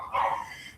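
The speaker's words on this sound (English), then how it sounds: "I hope you all are not hearing the doggy bark in the background." A dog barks once in the background, a short mid-pitched burst that is fairly faint and distant, with no talking over it.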